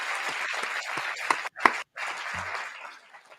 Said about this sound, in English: Let's give another round of applause to all of our candidates for participating tonight.